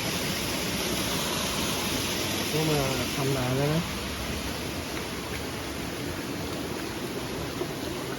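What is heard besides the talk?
water flowing down waterfall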